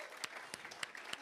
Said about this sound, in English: Can we give one more round of applause?